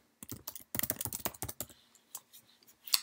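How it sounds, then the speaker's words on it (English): A password is tapped out on a Mac computer keyboard: quick bursts of close, crisp key clicks, a dense cluster early on, then sparser taps and a final sharper press. "Now you have to enter your password for your Mac"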